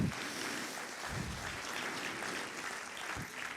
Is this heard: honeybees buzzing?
no